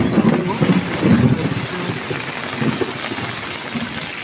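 Morning rain falls steadily on surfaces outdoors, a dense, even hiss that fills the whole stretch, with a voice murmuring quietly beneath it.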